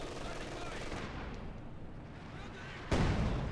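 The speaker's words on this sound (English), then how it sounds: "Artillery now hitting this region." Artillery barrage in a strategy video game, a steady roar of distant shelling and gunfire that drops away, then a sudden loud impact near the end.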